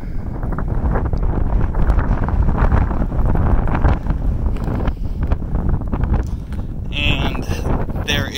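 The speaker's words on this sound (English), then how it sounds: "it sure got a little windy, didn't it?" Heavy wind buffets the microphone outside a correctional facility in Oswego, a loud continuous rumbling roar with gusty fluctuations throughout.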